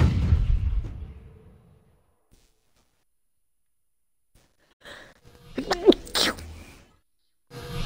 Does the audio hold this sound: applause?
no